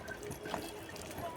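Water poured into a container during a rescue of snakes from a bullock trough, a brief soft gurgling and trickle heard close by against a faint background murmur.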